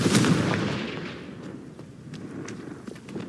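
A Confringo blasting spell from Hogwarts Legacy goes off as a loud, booming burst at the start, then rumbles and crackles away over a few seconds with scattered sharp pops.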